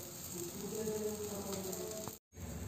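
Dried Bombay duck fish roasting in a pan, a faint, even hiss with a low background hum, broken by a brief total dropout near the end.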